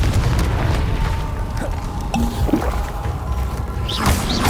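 Spell explosion from Hogwarts Legacy, a steady rumbling boom that lingers for several seconds with scattered crackles, a short metallic ping, and a bright swish near the end.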